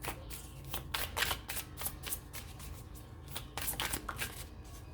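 Tarot cards being shuffled for a weekly reading, heard up close as repeated quick riffling and slapping bursts in a steady rhythm, alone without voices.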